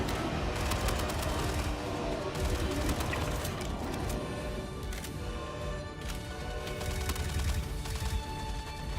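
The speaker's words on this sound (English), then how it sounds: "Oh, I hear gunfire." Gunfire in a space video game, with repeated bursts of rapid shots at varying distances over a steady background, and no talking.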